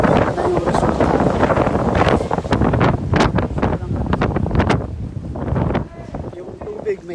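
Gusting wind during heavy rain and flooding buffets the microphone in loud, continuous bursts, with someone talking over it throughout and the roar easing slightly toward the end.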